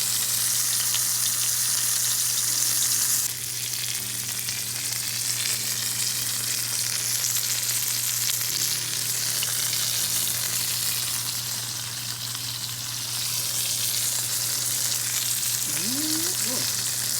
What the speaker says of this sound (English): Just flip this steak over.